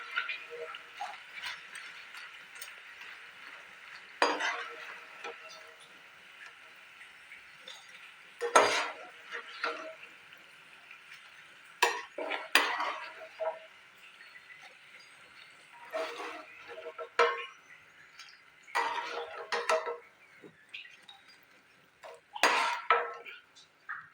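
Crispy fried potatoes for chilli potato being lifted out of a pan into a dish with a metal utensil: close, intermittent scraping and clinking bursts separated by short quiet gaps.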